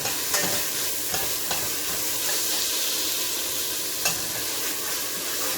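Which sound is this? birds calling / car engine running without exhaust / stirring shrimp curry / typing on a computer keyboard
stirring shrimp curry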